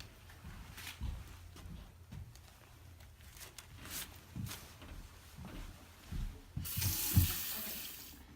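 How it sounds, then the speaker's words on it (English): Water runs steadily from a tap as hands are washed after an IV bag medication injection in a clinical setting, moderately quiet with a brief louder surge near the end. "we're going to go wash our hands"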